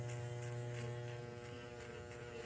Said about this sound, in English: And you can hear the hair being cut